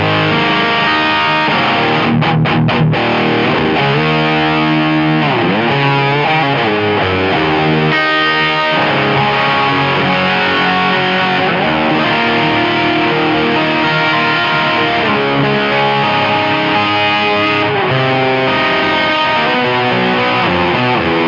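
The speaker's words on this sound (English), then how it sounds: "as I'm playing, I'll kick on my stereo delay, and you can hear it kind of like widen and fill out" Electric guitar through a Palmer amp plays a lead line with heavy high-gain distortion, and a stereo delay comes in to widen and fill out the sustained, continuous tone.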